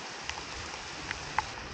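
Steady hiss of rain falling on surfaces nearby beside a stream, with a few louder drips standing out.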